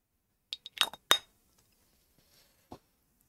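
A glass Chanel No. 5 perfume bottle is handled in a quiet room, giving a quick cluster of sharp glassy clinks and taps, then a lone softer knock moments later.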